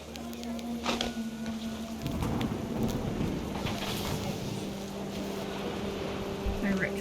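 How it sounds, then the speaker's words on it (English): A thunderstorm with rain in the video game What Remains of Edith Finch gives a steady rushing downpour with low rumbling swells. A narrating voice talks over it the whole time. "The rain came down in buckets then"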